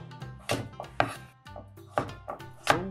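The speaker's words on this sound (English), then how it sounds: "Then you start cutting into a bite size." A kitchen knife cuts a carrot into bite-size pieces on a board, a handful of separate, close, crisp chops at uneven intervals, each a sharp knock with a brief crunch, no talking.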